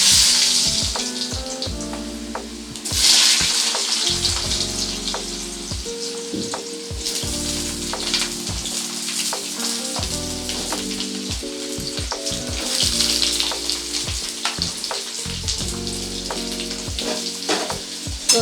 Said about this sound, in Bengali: আলুগুলো দিয়ে খুব ভালো করে একটু ভেজে নেব।